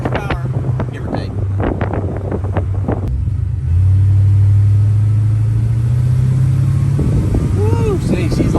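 A 1970 Chevelle engine of about 250 horsepower revs hard, a deep rumble climbing into a sustained loud roar that holds steady and then drops back near the end, with people talking and cheering over it.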